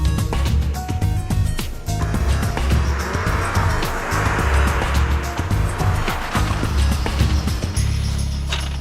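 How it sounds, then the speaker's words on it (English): A car on legal tyres brakes hard from 50 mph on a test course, engine roar and tyre noise building into a prolonged squealing skid that fades as the car slows. "He then brakes hard and hopefully won't hit the cones"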